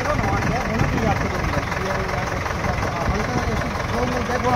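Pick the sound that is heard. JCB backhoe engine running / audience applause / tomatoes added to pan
JCB backhoe engine running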